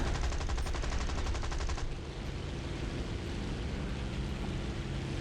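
In the War Thunder flight game, aircraft guns fire in a rapid, dense burst that lasts about two seconds. A loud, steady engine roar carries on beneath and after it.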